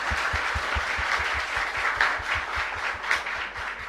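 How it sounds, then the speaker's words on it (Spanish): A chapel congregation applauds the altar servers with a moderate, evenly rhythmic patter of hand claps that continues steadily throughout. "fuerte aplauso también para los monaguillos"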